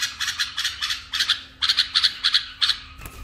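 Young bulbuls call in quick, shrill repeated chirps and squawks, loud and close, in uneven bursts with brief pauses and a faint background hum.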